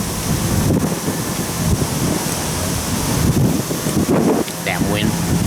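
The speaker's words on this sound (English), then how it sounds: "damn wind." Wind gusts buffet the microphone outdoors in a loud, continuous rumbling roar, with someone speaking faintly underneath it toward the end.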